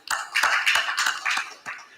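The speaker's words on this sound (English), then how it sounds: "Let's give him a round of applause." A few people clapping at a housing finance conference, sparse distinct hand claps in an uneven rhythm, fairly close and light rather than a full crowd ovation.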